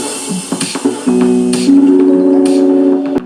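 Music playing from a stereo pair of Echo Dot 3rd Gen smart speakers, with short plucked notes at first and then sustained harmonic tones held steadily, heard close and fairly loud.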